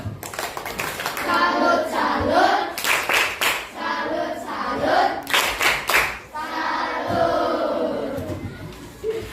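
A primary school class claps in uneven bursts, with some rhythmic hand clapping. Children's voices and shouts rise and fall over it throughout.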